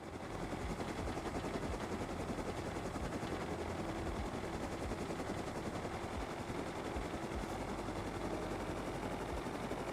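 A helicopter in the survival game Rust drones with a constant, dense rotor and engine roar throughout, loud and unbroken with no speech.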